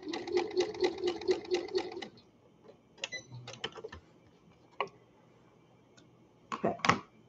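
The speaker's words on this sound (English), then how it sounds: "I'm going to sew past where I started again." A sewing machine stitches fabric in a fast, even rhythmic run for about two seconds, then stops, followed by scattered clicks and handling noises up close.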